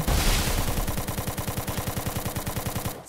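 Rapid automatic gunfire in a video game, a fast steady stream of loud evenly spaced shots that stops abruptly at the end.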